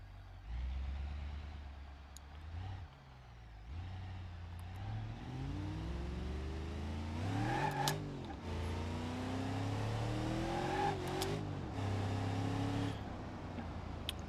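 A big block V8 car engine in the BeamNG.Drive driving game, a loud, close rumbling drone that climbs and falls through several revving gear pulls with rising whines, running continuously.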